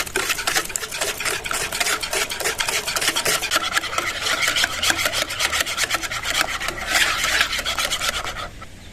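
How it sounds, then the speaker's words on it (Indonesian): Salt and sugar are stirred in a bowl until the sugar dissolves, making a steady, close scraping and grinding rub that runs continuously with no voices. "Ini diaduk-aduk dulu sampai gulanya larut."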